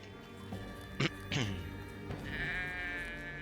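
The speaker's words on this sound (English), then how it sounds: "A lot of sheep." Sheep bleating in the video game Drova: Forsaken Kin, a couple of sharp bleats followed by a longer wavering one, over a low steady background hum.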